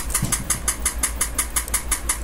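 A boat engine in the Roblox video game runs with a steady low drone and a fast, regular mechanical pulsing, close and loud with no talking.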